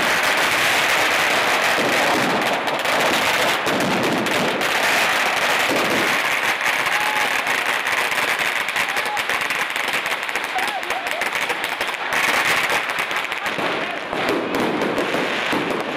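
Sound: firecrackers set off during Fallas night

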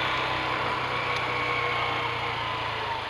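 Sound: Beker B2 CR3 125cc motorcycle engine

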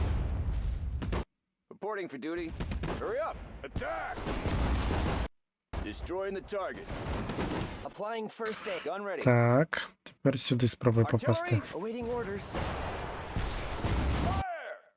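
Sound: artillery fire in the video game Sudden Strike 4

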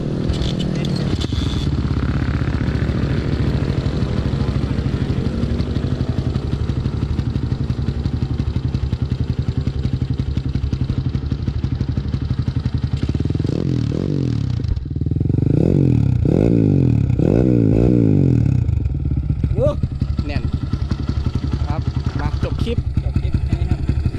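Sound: motorcycle engine idling and revving

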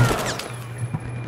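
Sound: shotgun fired at point blank in Battlefield 4 video game

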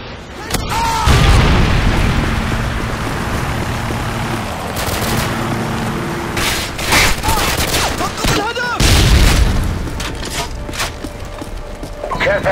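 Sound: Predator missile explosion in Call of Duty MW2 video game

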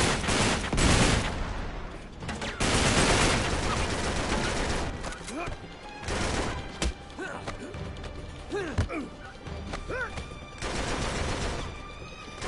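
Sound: machine gun fire in video game Uncharted 3

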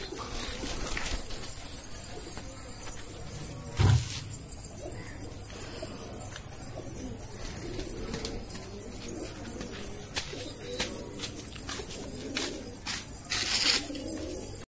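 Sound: pigeons cooing in loft

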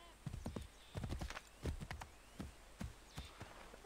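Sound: horse hooves in Assassin's Creed 3 video game

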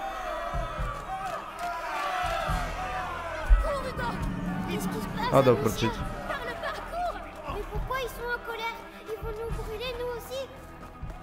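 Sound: angry crowd in the video game A Plague Tale: Innocence

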